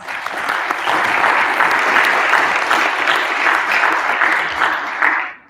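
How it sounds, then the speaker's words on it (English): Audience applause for committee members at a community luncheon, full and sustained clapping from a sizable crowd that holds evenly, then cuts off sharply at the end. "Let's give them a round of applause"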